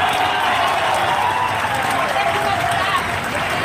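Thousands of students at a protest march in Sambhajinagar over a Talathi recruitment scam clap together outdoors, a dense, steady wash of applause and crowd noise that runs unbroken throughout.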